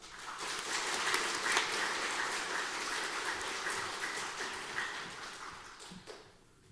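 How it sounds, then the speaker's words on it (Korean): A church congregation claps together to welcome the pastor, a dense wash of applause from a large room that holds steady for several seconds before fading out. "박수로 환영하겠습니다"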